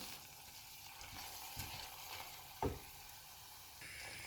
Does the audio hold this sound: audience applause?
no